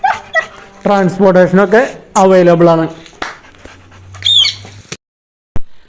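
A one-year-old male Rottweiler with a KC certificate lets out brief yips and whimpers, heard only in short bursts beneath someone talking close by.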